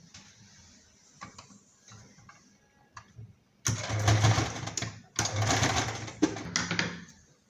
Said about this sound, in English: So now I'm going to sew on top this way.